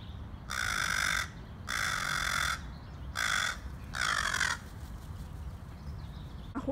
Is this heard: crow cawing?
yes